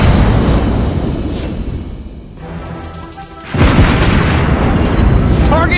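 Deep booming naval shell impacts from a Des Moines cruiser in World of Warships Blitz, heavy blasts rolling out, dropping to a quieter lull, then a fresh loud barrage of hits crashing in near the end.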